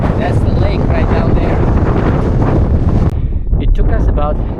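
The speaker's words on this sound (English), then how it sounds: "It is very, very windy here, so I apologize for the wind noise." Heavy wind roars across the microphone at upper Tama Lake in Tongariro National Park, a loud continuous low buffeting that eases slightly near the end, with someone speaking over it.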